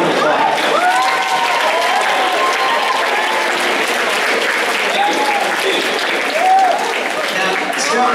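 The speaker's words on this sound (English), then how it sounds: "Give a round of applause." An audience at a speaker series event breaks into loud, sustained applause, with a crowd murmur and a few whistles rising through the clapping.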